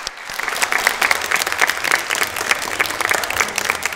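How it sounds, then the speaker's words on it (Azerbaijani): An audience breaks into loud, continuous applause at an Azerbaijani music concert, a dense wash of many hands clapping together that carries on without pause. "ürəkdən alqışlayaq"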